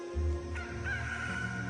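A rooster crows once, a drawn-out, fairly loud call rising after a short burst of low background noise and holding steady to the end.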